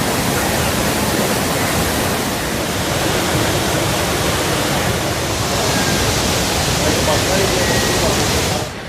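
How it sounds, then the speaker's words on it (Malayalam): Chooralmala river rushing past Vellarmala school in Meppadi, a steady, loud broadband roar of flowing water that holds constant and cuts off abruptly at the end. "മേപ്പാടി ഗ്രാമപഞ്ചായത്തിലെ വെള്ളാർമല സ്കൂളിന് അരികിലുള്ള ചൂരൽമല പുഴയാണിത്"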